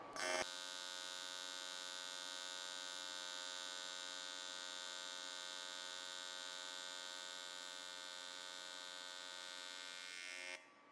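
Aluminum plate being TIG welded, a steady, close electric arc hum with a dense buzzing tone that runs for about ten seconds before cutting off.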